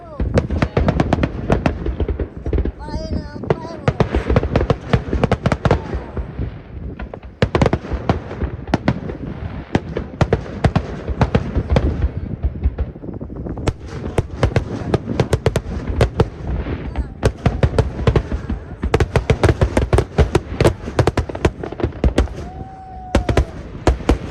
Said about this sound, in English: we went over to Chamberlain to watch the fireworks over the Missouri River.